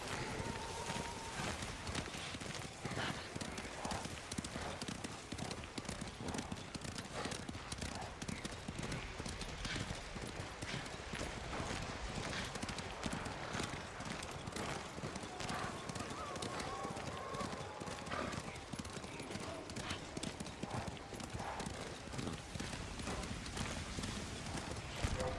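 Horse hooves clip-clop in a steady, quick trotting rhythm in Ghost of Tsushima, a continuous run of close hoof strikes with voices talking over them.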